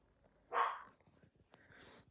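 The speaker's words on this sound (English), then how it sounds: "Why are you barking?" A dog gives one loud bark up close, followed a second later by a softer, shorter bark or yip, in a quiet outdoor setting with birds around.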